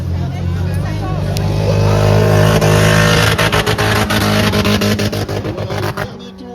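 Stock car engines roar through a wood-class heat at Bertrix, a loud, sustained drone with rising revs. A crowded field passes close, and rapid rattling bursts follow near the end.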